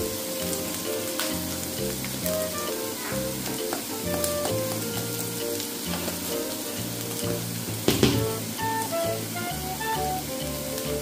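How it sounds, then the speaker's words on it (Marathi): Chopped onions sauté in hot oil in a pan, a steady loud sizzle and crackle that runs throughout with soft scraping from stirring, close up and without talk. "तर त्याला अजून आपण गुलाबी रंग येईपर्यंत परतून घ्यायचा आहे."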